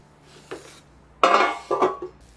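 Diced vegetables, cut into small 1 cm cubes, tipped into a kitchen tray, giving a few short, close clattering bursts with a soft earlier knock.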